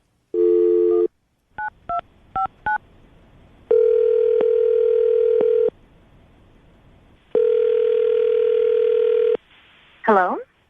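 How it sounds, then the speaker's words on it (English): A string of touch-tone dialing beeps, short and regular, between long steady dial tones, followed by a brief warbling ring at the end. "I'm going to dial the phone number right now"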